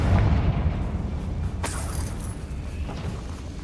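A Confringo spell bursts in Hogwarts Legacy, with a dull booming blast up front that decays into a low rumble, followed by a brighter crackling burst partway through. No one speaks.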